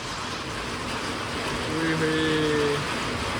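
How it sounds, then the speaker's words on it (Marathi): Heavy rain pouring onto a tin sheet roof in a village: a dense, steady roaring hiss throughout, with a brief low tonal call rising over it partway through. "तुम्हाला दाखवतो पाऊस आहे ना जोर जोरात असा पडतोय"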